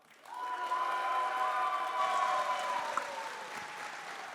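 Audience at the Arctic Gaming Experience 2022 LAN event applauding a player, a steady wash of clapping with light cheers that rises quickly and then slowly fades.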